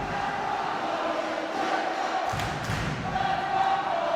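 Fans of the KS Cossacks cheer and shout in an indoor arena during a volleyball match, a dense, steady crowd roar with a thud partway through, with commentary talk running over it.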